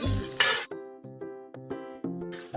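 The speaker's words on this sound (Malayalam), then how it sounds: "കടുക് താളിച്ച് ഇളക്കി ചെറുതായിട്ട് ഇളക്കി കൊടുക്കണം." Mustard seeds crackling as they temper in hot oil, with a spoon stirring and clinking against the pan in short, regular strokes, close up and with no voices.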